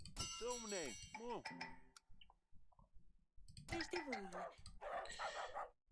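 A dog barks in the video game Yes, Your Grace: Snowfall. A few loud, close barks sound in two separate bursts, with a voice talking around them.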